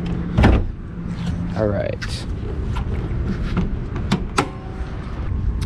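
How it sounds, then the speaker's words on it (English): Someone pops the hood on a Nissan 350Z: a few clunks and latch thumps from the car, with a short creak, while someone says a word or two nearby. "Let me just pop the hood and show you guys really quick."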